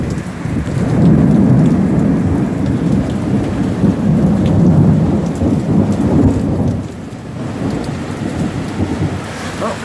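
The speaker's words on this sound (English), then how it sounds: "here comes the rainy part" Heavy summer storm rain in Central Florida with rolling thunder, a constant loud downpour hitting surfaces while low rumbles swell and fade, the roar dipping slightly near the end.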